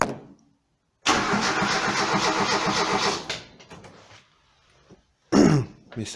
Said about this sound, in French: Maintenant, je vais vous montrer ce que ça fait quand j'essaie de démarrer.